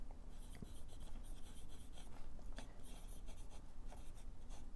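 A TWSBI fountain pen with a 1.1 stub nib scratches steadily across paper in short strokes, a close, quiet, continuous scritching with tiny pauses between letters.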